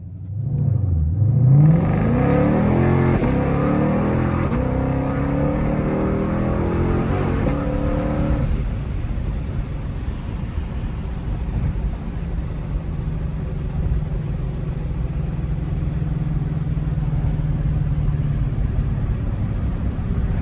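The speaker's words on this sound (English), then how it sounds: "Let's just smash the gas" A Shelby GT500 accelerates hard from a launch, its engine roaring up through the revs with a rising pitch before settling into a loud, sustained high-speed drone close by, with no talking.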